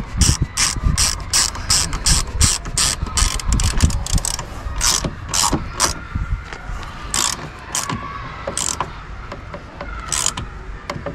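Ratchet wrench tightening the mounting screws of a replacement electric folding door mirror on an Opel Astra H, giving rapid bursts of clicking pawl strokes up close, with short pauses between runs and no talk.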